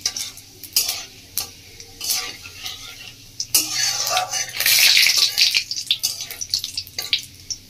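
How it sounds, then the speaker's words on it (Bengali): Whole spices for a Bengali phoron tempering frying in hot oil, a crackling sizzle broken by sharp spoon clinks and scrapes against the pan, swelling into a louder, denser splutter midway. "ফোড়নটা খুব ভালো করে ভাজবেন"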